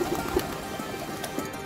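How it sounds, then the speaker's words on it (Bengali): A pet pigeon kept in a home loft gives a few soft, low coos, brief and close, against quiet background noise. "এই হচ্ছে আমার শখের কবুতর।"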